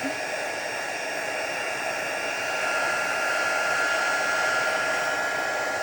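A heat tool blows steadily for about six seconds while drying a bleached stamped card, a loud, continuous hot-air whoosh with a faint tonal whine and no talk.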